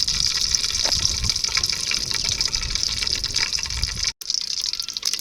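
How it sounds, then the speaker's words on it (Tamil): Mustard seeds splutter and crackle in hot groundnut oil, a close, continuous sizzling hiss dotted with quick pops, briefly cut off near the end. "கடுகு பொரிஞ்சு வந்துருச்சுங்க"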